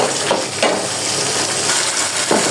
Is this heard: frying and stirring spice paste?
yes